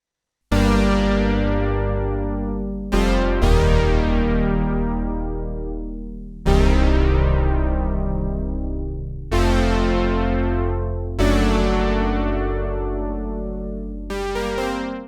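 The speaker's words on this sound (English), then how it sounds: "I'll just play the chords over there so you hear what they sound like from the Juno 106 with no external effects" Roland Juno-106 synthesizer chords played dry with no external effects: six sustained chord hits, each starting sharply and slowly decaying, with a short gap between changes and no voice.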